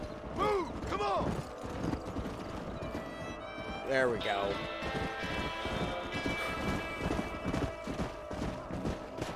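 Herded horses in the video game Red Dead Redemption: steady clip-clop of hooves, a couple of rising whinnies and creaky mechanical clatter, with someone speaking briefly over the herd.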